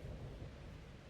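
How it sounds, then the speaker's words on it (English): Low rumbling thunder rolls beneath steady rain in the Kingdom Come: Deliverance game world, soft and distant-sounding with no voices. "Not afraid of thunderstorms, are you?"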